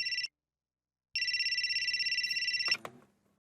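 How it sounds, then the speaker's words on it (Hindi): A telephone rings in a short electronic trill that cuts off, then resumes for about a second and a half of steady warbling rings before stopping with a clatter as the handset is picked up; no talk. "भाई भाभी फोन उठाइए"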